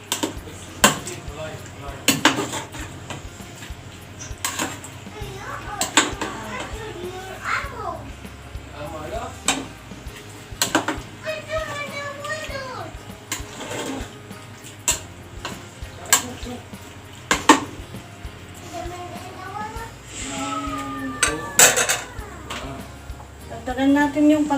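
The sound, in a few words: stirring chicken pastel with evaporated milk in pan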